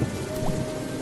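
Steady, dense rain pours down with a low rumble of thunder underneath, close and continuous for a brief moment.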